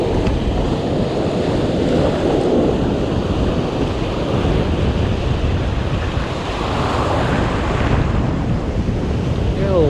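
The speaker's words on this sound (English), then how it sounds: "I just can't get over this wind right now." Strong coastal wind roars and buffets the microphone continuously, with surf washing steadily underneath throughout, at a spot used for fishing for striped bass.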